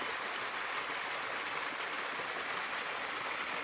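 A steady rush of water falling down Carnes Cascade, a small waterfall on the Appalachian Trail, splashes and hisses continuously, close by and even in level with no other sounds.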